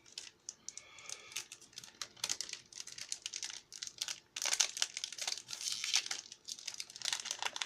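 Crinkling foil wrapper of an Orica Playmate trading card booster pack being torn open up close, a run of crisp ripping and crackling bursts that grow louder and denser toward the end, with no talking.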